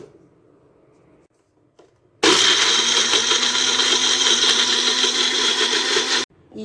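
A mixer grinder coarsely grinds fenugreek-leaf chutney ingredients with a little water, roaring loudly in one steady burst of about four seconds before stopping abruptly, with quiet surroundings before and after.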